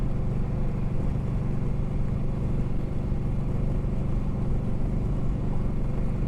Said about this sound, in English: A lot of back roads traffic.